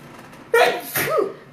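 A person sneezes once, a sharp voiced burst followed by a short trailing exhale, close and fairly loud after a quiet moment.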